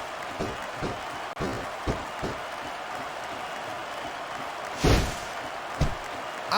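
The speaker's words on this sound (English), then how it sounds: "I can't remember the last time I seen a crowd so pumped up." Wrestling arena crowd roaring in a steady, dense wash of cheering and applause, with a few louder surges and sharp claps cutting through near the end.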